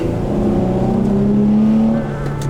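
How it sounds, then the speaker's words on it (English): Car engine noise fills the whole stretch as traffic moves along a busy avenue, a steady close rumble with a rising whining tone, and no talk. "What's all this traffic?"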